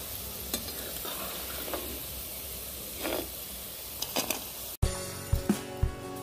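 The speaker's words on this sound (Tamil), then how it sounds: "இது எண்ணெயில் போட்டு பொரிச்சுக்கலாம்." Soya 65 chunks fry in hot oil, giving a steady hiss and sizzle with a few stirring clinks. Near the end, sharper scraping and metal-on-pan knocks sound close by.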